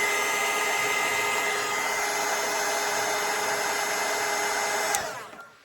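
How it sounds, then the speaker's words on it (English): A hair dryer blows steadily and loudly on a watercolour painting of a hot air balloon, a constant whirring rush that runs for several seconds before switching off and winding down. "now I'm gonna dry it."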